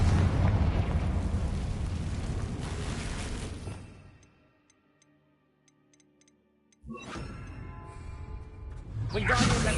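In the Hogwarts Legacy video game, a Confringo fire spell goes off as a loud roaring blast that fades into near silence with faint ticking, then another swelling rush of fiery noise follows.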